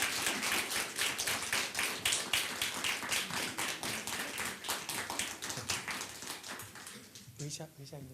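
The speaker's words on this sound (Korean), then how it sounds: "큰 박수 부탁드리겠습니다" A concert-hall audience at a talk-concert festival claps in a brisk, steady rhythm to welcome a singer-songwriter to the stage, and a voice starts speaking as the clapping tapers off near the end.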